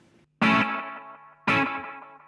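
Two strummed electric guitar chords ring out one after another, each trailing off in a long, smeared wash of repeating echoes.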